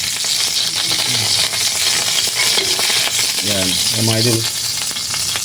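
Chicken blood frying in a pan, a steady broadband sizzle running throughout, with a voice talking briefly over it near the end.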